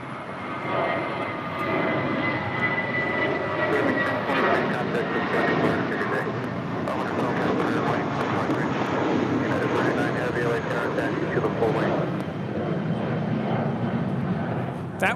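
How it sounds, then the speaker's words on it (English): A Spirit Airlines Airbus A320 jet departing LAX for Chicago O'Hare thunders loudly and steadily as a broad, rushing engine roar, with faint talk underneath. "That was Spirit 1023 departing to Chicago O'Hare on an A320"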